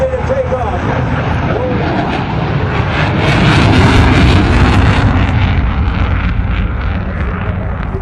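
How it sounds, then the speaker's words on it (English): An F/A-18F Super Hornet jet at an airshow demo produces a continuous broad roar heavily buffeted by wind noise, swelling slightly in the middle. "the F-A-18 Hornet plants itself on the imaginary deck of the aircraft carrier, ready to take off"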